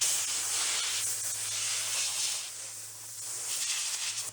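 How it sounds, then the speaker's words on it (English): Compressed air gun blasting air at a vintage 1950s cola thermometer, a loud, continuous close-up hiss that holds steady for about four seconds with a low hum underneath. "Let's just try taking an air gun, see if we can blow the crap out of what's next to it."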